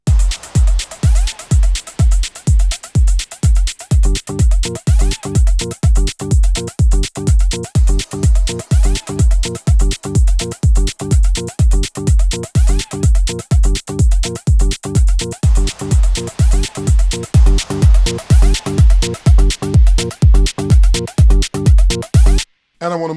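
A steady four-on-the-floor electronic dance beat with punchy kicks and a looping synth pattern, continuous and loud, ending with an abrupt cut.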